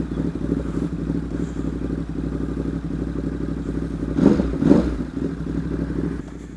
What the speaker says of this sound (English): one of the things I'm already in love with on this bike is the way it sounds. So get a load of this startup.